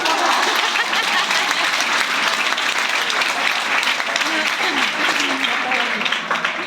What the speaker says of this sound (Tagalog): mahinang palakpak.